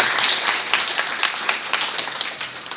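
Lively applause from students and attendees at a court visit session, a dense burst of many hands clapping close and loud, gradually thinning toward the end.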